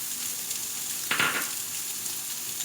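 Spices fry in a pan, a steady close sizzle that flares into a brief louder hiss as finely chopped vegetables hit the hot oil, then settles back, no voices.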